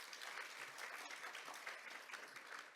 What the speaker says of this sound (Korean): 다시 한번 좋은 말씀 해주신 분들께 박수 한번 부탁드리겠습니다.